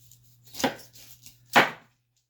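A knife cutting through a pineapple on a cutting board, two distinct firm chops with a smaller cut between them, close and clear in a quiet room.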